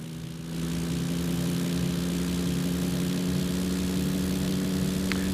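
A Cessna 172 propeller engine in the X-Plane 11 flight simulator runs at a steady idle. The low, droning hum rises in the first half second and then holds constant and loud with no voices.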